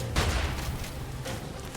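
Shotgun firing in the video game Immortal Redneck, heavy booming blasts with a sustained rumbling tail, loud and close, a second report following about a second after the first.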